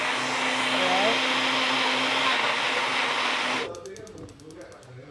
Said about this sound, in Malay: I'm gonna blend it.